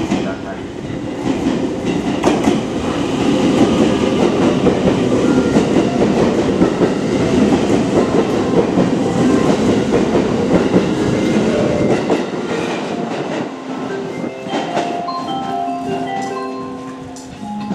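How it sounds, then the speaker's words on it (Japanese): A train pulls into Tsuruga station in Japan, a loud sustained rumble of wheels and rail with clacking, then quieter tones from the platform's approach melody and chimes as it slows near the end. "列車が到着します。"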